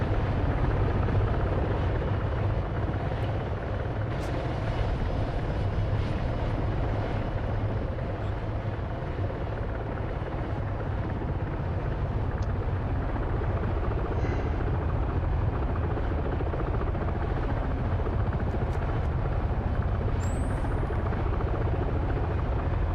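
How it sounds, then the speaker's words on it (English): Helicopters in a combat video game flying close overhead, a loud continuous rotor thump and engine roar that holds steady throughout with no talk. "Fucking helicopters."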